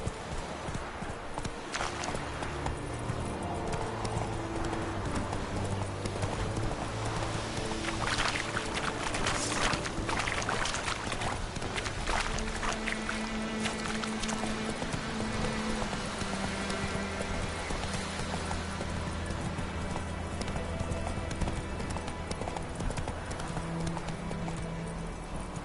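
Roach, Geralt's horse in The Witcher 3, trots with a continuous rhythmic clip-clop of hooves, close and clear, amid dense game ambience and music, with a brief whinny-like cry.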